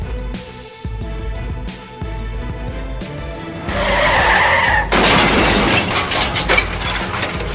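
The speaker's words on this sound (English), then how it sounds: "decided to launch his pickup truck right into the boat that was peacefully parked in the yard" A pickup truck skids on a road and crashes into a boat parked in a yard, heard as tire screeching and engine noise that grows into a loud, harsh, scraping crash with debris rattling, no talk.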